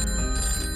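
A telephone rings with a steady, bright electronic tone that holds through the whole short moment. It is fairly loud, has a low hum underneath, and there is no talking.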